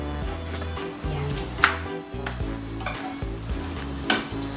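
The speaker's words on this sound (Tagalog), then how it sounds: "isasaute ko na yung chicken sa butter" Chicken sautéing in butter in a pan, a steady sizzle with stirring and scraping of a utensil against the cookware, plus occasional clinks, close and fairly loud throughout.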